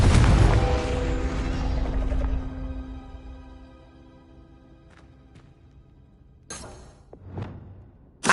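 A Confringo blasting spell goes off in Hogwarts Legacy as a loud booming explosion with a long ringing, tonal decay, followed by a couple of faint clicks and two sharper bursts near the end.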